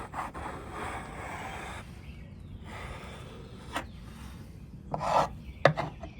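A chisel edge rubbed back and forth on an Arkansas sharpening stone, giving a steady close, faint rasping scrape with a few sharper clicks near the end.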